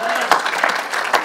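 A church congregation applauds during a French sermon on the Holy Spirit, a brief, dense burst of clapping mixed with voices, fairly loud and close throughout.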